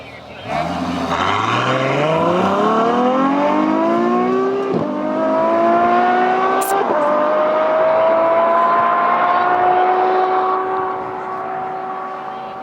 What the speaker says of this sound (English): Absolutely love the sound of that V12 engine screaming